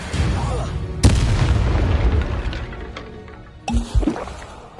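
Confringo blasting spell going off in the Hogwarts Legacy video game: a sharp boom at about one second with a rumbling decay, then a second burst of crackling impacts near the end.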